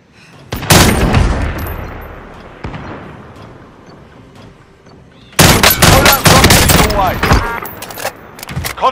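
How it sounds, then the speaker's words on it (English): Rapid bursts of gunfire in the Call of Duty Warzone battle royale video game, loud and close, one burst early and then a long dense volley of automatic fire near the end. "Taking direct fire."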